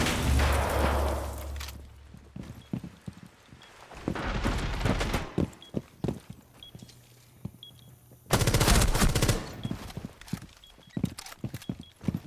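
Bursts of automatic gunfire from a video game replay, loud rapid rattling volleys that come and go between quieter stretches of single shots and footsteps.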